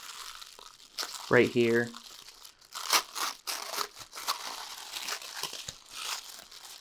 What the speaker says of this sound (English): the special Boba Fett branded Nerf darts, are wrapped in this tissue paper